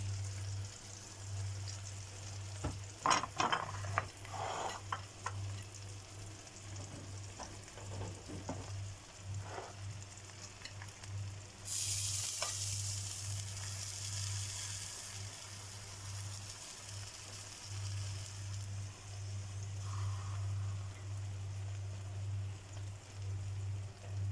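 Sauce poured over hot grilled fish sizzles and crackles steadily, with clatter near the start and a loud hissing surge in the middle, beneath a constant low hum.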